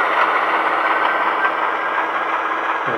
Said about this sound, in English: So if I just move the engine out of the way, you can hear it